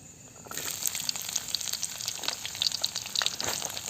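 Small onions (shallots) sizzle in hot oil for chicken chukka, with a dense crackling fry that starts suddenly about half a second in and stays steady and close, with frequent small pops and no voices.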